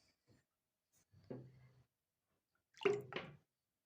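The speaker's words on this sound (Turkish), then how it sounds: "hemen bir kepçe süt tepsime alıyorum" A ladle of milk poured into a tray for güllaç dessert, faint brief splashing and dripping in two short bursts in a quiet room.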